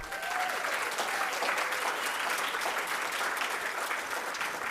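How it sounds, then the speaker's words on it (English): An audience at the Africa Prize for Engineering Innovation final applauds continuously, a dense, even patter of many hands heard at moderate distance for nearly five seconds. "I want, please, much more applause for her."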